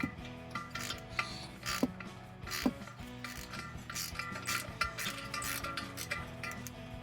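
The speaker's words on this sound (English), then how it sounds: "We just turn the ratchet like this." Ratchet wrench worked by hand while long-tube headers go onto a 5.7 Hemi, giving a busy run of clicking, rasping mechanical sounds across the whole stretch with a couple of sharper metallic clanks; no speech.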